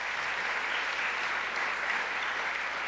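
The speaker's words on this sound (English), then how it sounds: "Let's give her a round of applause." Audience applause at a New York governor's public announcement, an even, continuous patter of many hands clapping at moderate distance with no voices on top.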